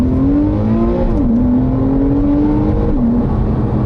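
A Porsche 911 engine drones from inside the car while driving, a steady low hum whose pitch rises, dips at gear changes and climbs again, with no talking.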